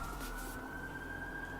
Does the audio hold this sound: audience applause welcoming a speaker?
no